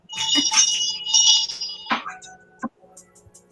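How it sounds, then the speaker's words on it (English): Bright bells ring in a cluster of overlapping strikes, then thin out to a few scattered single chimes that fade into near silence, with a faint voice underneath. "Ringing bells."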